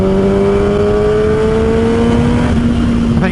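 A Kawasaki ZX6R motorcycle engine holds a loud, close, steady note under rushing wind, its pitch easing slightly near the end; no one speaks.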